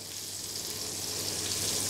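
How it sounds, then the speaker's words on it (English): Hasselback potatoes topped with cheese and bacon sizzle steadily in the heat, a close, even crackling hiss with no voices over it. "Oh, sizzling, beautiful."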